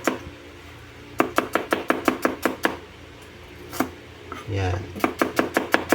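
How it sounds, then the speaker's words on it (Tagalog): Quick, crisp knife strokes slice an onion thinly on a cutting board, a steady rhythmic run of close chops, a short pause with a brief spoken word and a scrape, then another fast run of slicing. "So bilis lang naman po pag slice ng onion."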